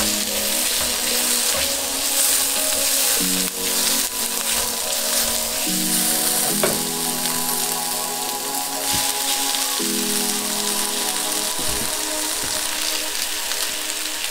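Instant noodle ingredients sizzle in a hot pan, a continuous crackling fry with scattered pops, joined at intervals by a low humming tone in the background.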